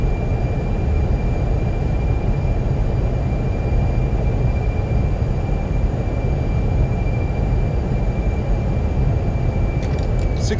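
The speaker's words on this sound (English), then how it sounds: "Reversers, nose down gently." Airbus A320 thrust reversers roaring during landing rollout in Microsoft Flight Simulator, a steady broadband rumble holding loud and constant throughout with no voices.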